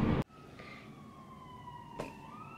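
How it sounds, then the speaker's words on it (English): Ambulance sirens pass outside, faint and distant, with a slowly sliding wail under quiet background noise and a brief louder knock near the start. "I hear a lot of that. Ambulances."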